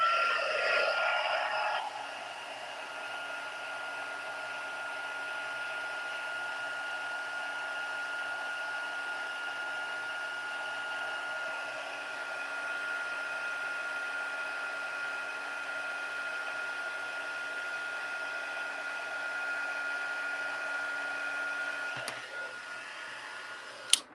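A heat gun blows a steady, even whir for over twenty seconds, melting embossing powder on a card, the airflow hiss constant and close with no talking.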